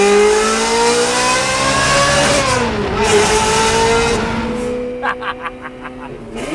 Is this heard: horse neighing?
no